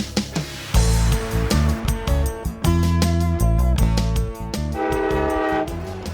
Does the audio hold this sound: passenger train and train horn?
yes